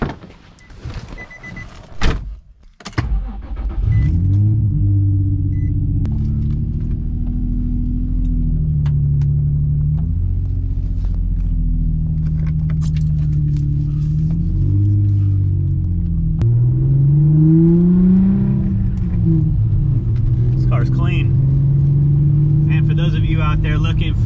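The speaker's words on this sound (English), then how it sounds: "let's get this thing on the ground. We'll take it for a test drive." After a short burst of clatter, a car engine starts and runs steadily, rumbling loudly up close as the vehicle drives, pitch rising briefly midway.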